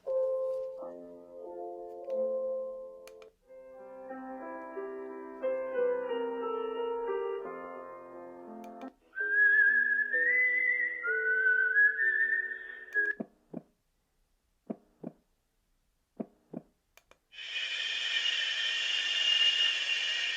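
A portable sound machine plays a simple electronic lullaby melody in soft tonal notes, then a few clicks and a burst of static hiss near the end.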